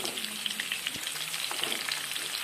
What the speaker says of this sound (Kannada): ಇವಾಗ ಎಣ್ಣೆಗೆ ಚೆನ್ನಾಗಿ ಬದನೆಕಾಯಿ ಬೇಯಬೇಕು.